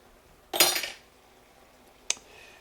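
A fork picked up from cutlery in a home kitchen beside an electric stove: one bright metallic clatter, a pause, then a single short clink, close but fairly quiet against a near-silent background.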